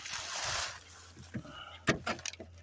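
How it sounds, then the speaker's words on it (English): A stiff, sticky door on a Dodge Challenger is worked at, with rubbing, a sudden clunk of the latch and mechanism, then a few smaller knocks and rattles, close by. "We'll open this door"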